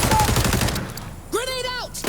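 A short burst of rapid gunfire in the xDefiant shooter game, with a sharp rising whistle-like effect near the end as a grenade is thrown, close and loud.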